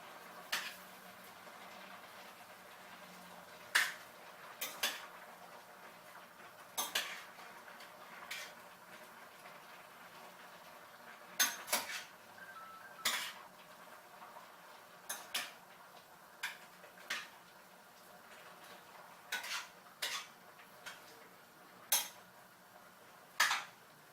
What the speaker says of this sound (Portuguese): Mistura bem.